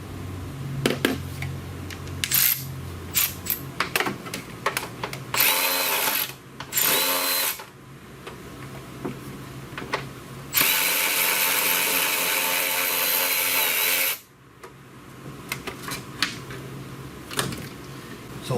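A ratchet loosens a 10 mm bolt on the firewall of a 2007 Suzuki Forenza during air conditioning repair: quick bursts of close metallic clicking alternate with two long, loud whirring stretches, with no talking.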